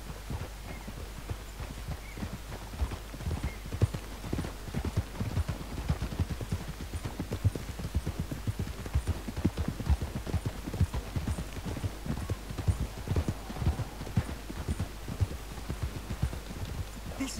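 Horse hooves clip-clop steadily in Red Dead Redemption 2, a continuous run of close, even footfalls at a walking-to-trotting pace over a low ambient rumble, with no talk.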